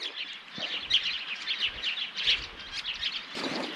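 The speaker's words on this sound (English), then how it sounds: "There's all these birds just going nuts" Lively chirping and twittering of many birds in flowering gum trees in the Australian outback, a continuous busy chorus at moderate distance with faint rustling below.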